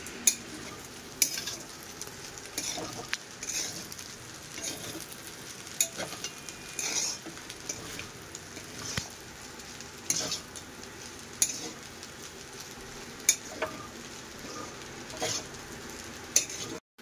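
Pasta stirred in a frying pan, a continuous soft sizzle broken by repeated scraping and tapping strokes of a utensil against the pan, steady throughout.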